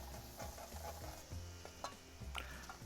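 Ginger garlic cubes and whole spices fry in hot oil, crackling and sizzling steadily while a spoon stirs with repeated scraping knocks, close up with no talk.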